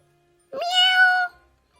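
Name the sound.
cat meowing in the distance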